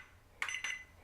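An Eachine E57 drone's radio transmitter gives two short electronic beeps in quick succession, clear and close against a quiet hum.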